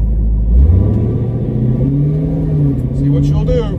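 A Dodge Demon 170 accelerates hard in a roll race, its deep engine rumble climbing steadily in pitch as it pulls, heard from inside the car with a voice speaking over it.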